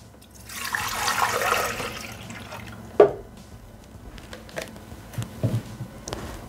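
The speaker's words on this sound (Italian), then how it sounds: "Iniziamo la ricetta mettendo all'interno del boccale il latte." Milk pours into a Thermomix mixing bowl with a soft liquid splash for about two seconds, followed by a sharp clink and a few faint knocks and drips nearby.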